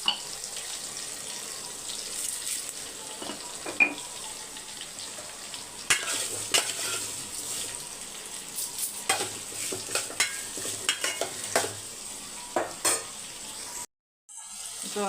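Vegetables with salt sauté and sizzle in a pan during simple home cooking for Thaipusam, with repeated scraping stirs and a running tap nearby, steady and close with no talk.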